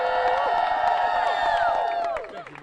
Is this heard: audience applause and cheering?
yes